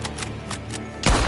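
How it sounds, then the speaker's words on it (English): Gunshots in the Red Dead video game: a few sharp cracks spaced through the moment, then one louder, heavier blast near the end over a steady low background rumble. "Gunshots are coming from that bar."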